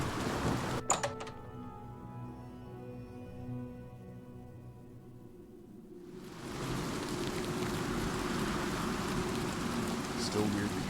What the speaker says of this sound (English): Still weird that you can hear the rain sounds inside the cave